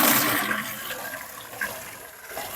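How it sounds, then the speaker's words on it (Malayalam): Water pours steadily and close by into a pot for boiling goat legs, a continuous splashing rush that is strongest at the start and eases slightly. "വെള്ളം ഒഴിച്ചു കൊടുക്കാം."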